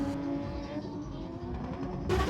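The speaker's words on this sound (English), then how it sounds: "That's a JZX 100 Mark II." Toyota JZX100 Mark II driving past at a drift event, a steady engine hum with tonal whine, moderately close and continuous, swelling slightly louder at the end.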